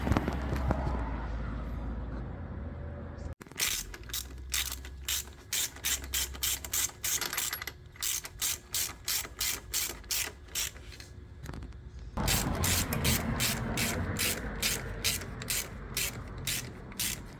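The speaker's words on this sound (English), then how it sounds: "Next, I'm going to just go ahead and tighten down the motor mount." Hand ratchet tightening engine mount bolts on a Ford Focus ZX4, heard as long runs of rapid, evenly spaced clicks close up, broken by short pauses and a sharp knock, with no talk.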